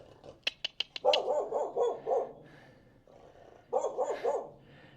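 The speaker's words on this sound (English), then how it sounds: "Oh, hello puppy dog." A dog outdoors on a rural back road in China gives a burst of sharp barks, then a run of rough, growly barks, and after a pause another cluster of barks, all close and loud.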